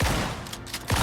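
A quick volley of gunfire from the video game Icarus, sharp bursts at the start and end of a brief, moderately loud moment.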